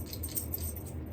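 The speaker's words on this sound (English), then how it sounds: "he's scratching and it's his collar" A dog's metal collar jingles faintly and continuously as the dog scratches indoors, a soft, even rattle of tags.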